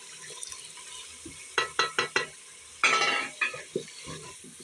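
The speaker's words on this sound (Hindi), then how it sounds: "अब हम इसमें मलाई मिक्स करेंगे।" A spoon stirs cream into malai boti meat in a pan, giving a run of short, close scraping and clattering strokes in quick bursts with brief pauses between.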